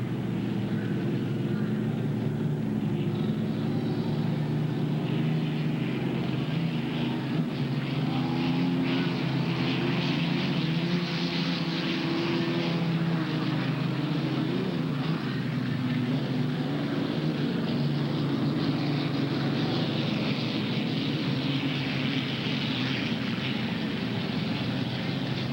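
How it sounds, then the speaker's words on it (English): Vintage unlimited hydroplane piston boats at Seattle Seafair racing down the front straight, a dense multi-engine piston roar that holds steady and loud for the whole stretch, no talking. "Here come the big old piston boats down this front straight."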